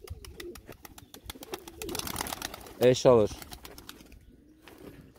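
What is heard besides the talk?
pigeons cooing in a coop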